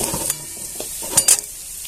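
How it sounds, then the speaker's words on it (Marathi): Green chillies sautéing in a pan, a brief soft sizzle broken by a few sharp scrapes and clinks of a spatula stirring against the metal. "आता मिरची चांगली परतून घेऊया याच्यात"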